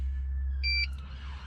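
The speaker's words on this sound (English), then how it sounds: "You get 2 beeps" A Ghost II immobiliser fitted to a 2020 Toyota GT86 gives a clear electronic beep followed by a fainter blip to confirm disarming, both heard over a low, steady cabin hum.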